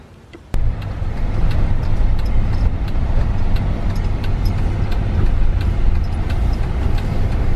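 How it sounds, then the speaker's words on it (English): A 1965 Ford Galaxie V8 fitted with new carburetors cranks and catches, settling into a loud, steady rumbling idle that runs on without pause, close by. "I'm gonna run that just to see if it'll turn over and start."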